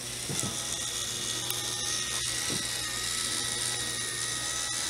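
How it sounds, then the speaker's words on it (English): A toy chainsaw, started by pulling its cord, runs with a steady mechanical ratcheting whir, close and fairly quiet, with a couple of brief clicks. "gotta pull the cord, start it up."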